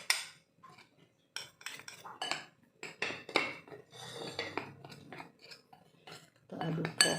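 Metal utensil clinking and scraping against a bowl while mozzarella stick batter with baking powder is stirred, close and intermittent, in irregular bursts with short pauses.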